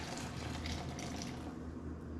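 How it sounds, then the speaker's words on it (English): Boiling hot water pours steadily into a garburator, a soft continuous splashing gush that holds at an even low level for a couple of seconds with no talk over it. "I'm just gonna pour some boiling hot water on it so that it's submerged"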